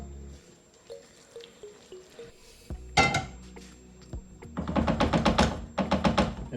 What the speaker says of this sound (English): start adding our stock